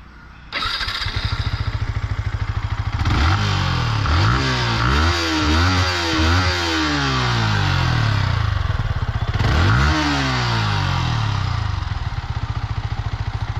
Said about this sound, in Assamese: এতিয়া আপোনালোকক এক্সজষ্টৰ চাউণ্ডটো শুনাই দিছোঁ বাইকখনৰ